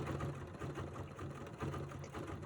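A sewing machine top-stitches couched fibers in a soft, steady mechanical whir, running continuously and faintly with no voices.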